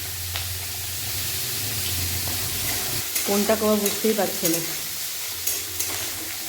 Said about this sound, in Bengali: একটু ভেজে নেবো আলু